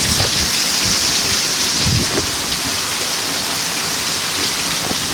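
Steady heavy rain pours down with a dense hiss, while low rumbles of thunder roll in the background, with no voices.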